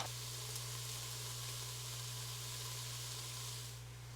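Vegetables sizzling and softening in a pot with added broth for chipotle chili, a steady dense hiss that holds evenly for several seconds before easing slightly at the end, close and with no talk.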